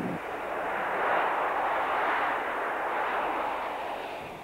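Jet airliner roaring at Bromma airport, a steady loud broadband engine rush that swells and slowly fades, with no other sounds.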